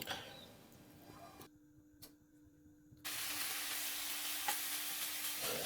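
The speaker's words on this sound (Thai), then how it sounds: "นำหมู3ชั้นลงไปกิวในกระทะได้เลยครับ" Soft sizzling of pork belly frying in a pan, a steady crackling hiss that grows louder partway through, with a brief quiet gap and no talking.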